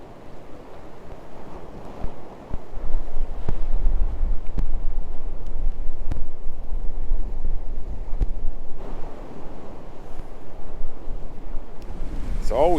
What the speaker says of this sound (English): It's always so windy here.